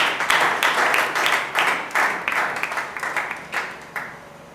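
A crowd at an interschool debate competition gives the participants a round of applause, energetic clapping in uneven waves that gradually thins and fades toward the end.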